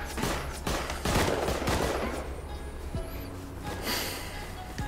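Rapid bursts of pistol gunfire in the survival video game Rust, several sharp shots clustered early then continuing more sparsely, loud and close amid game ambience.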